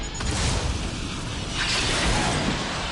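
A loud, sustained roaring whoosh of a missile launch in the video game Mass Effect 3, with a low rumble swelling midway, dense and close, like a rocket blasting off.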